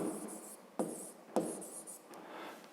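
A pen or pencil scratches across paper while a math exercise is worked out, with a steady, quiet rustle broken by two short sharp taps; no voice is present.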